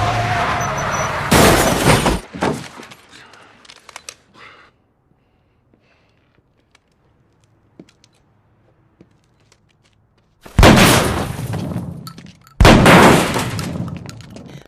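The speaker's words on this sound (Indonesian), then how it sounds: "Setelah terjadi baku tembak" Gunfire in a film shootout scene: sharp, loud bursts open the clip, then a long near-silent stretch with faint scattered clicks, before two more heavy loud blasts close it.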